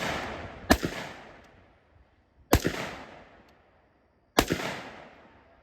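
Three loud pistol shots at shooting practice, spaced about two seconds apart, each a sharp close crack followed by a long echoing decay and quiet between.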